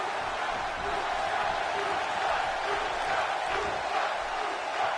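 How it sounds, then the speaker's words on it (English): A dense crowd roars and does lucha chants continuously in a large arena in Louisville during a wrestling match, a steady wall of voices with rising swells. "We're hearing some lucha chants in the crowd here in Louisville"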